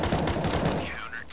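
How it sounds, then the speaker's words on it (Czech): Revolver gunfire in the video game CS:GO, several sharp shots in quick succession over a busy game soundscape, fairly loud and close. "nám tady střílí z revolveru"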